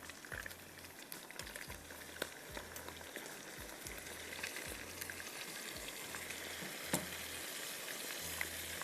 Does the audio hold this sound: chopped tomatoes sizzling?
yes